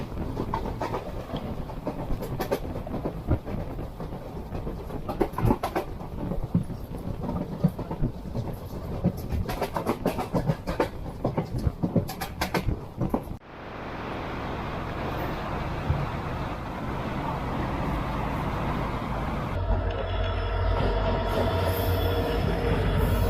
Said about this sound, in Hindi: हमारी गाड़ी भटकल से डिपार्ट करने वाली है